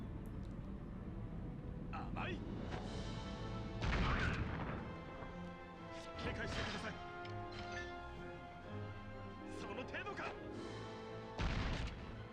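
Grenade blasts in Valkyria Azure Revolution on the Vita thud out several times over steady game music, each a short muffled crash, with someone talking throughout.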